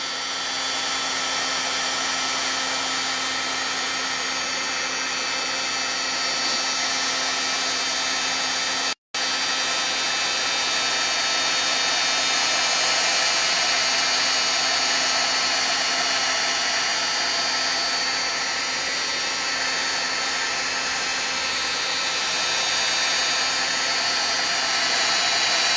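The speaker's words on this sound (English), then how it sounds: "We want to dry this, so you're going to hear a noise." A hair dryer blows steadily at close range to dry a freshly embossed paper craft project, a constant whooshing hum with one brief cut near the middle.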